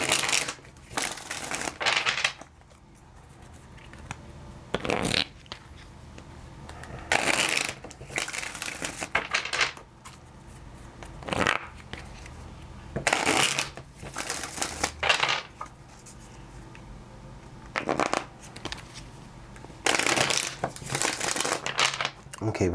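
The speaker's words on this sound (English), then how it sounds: "let's get one more last shuffle." Tarot cards shuffled during a Virgo reading, coming in repeated bursts of crisp riffling and papery crinkling between quieter gaps, close to the ear, with a voice talking in places.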